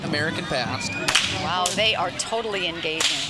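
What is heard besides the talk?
whips cracking by cowboy performers at parade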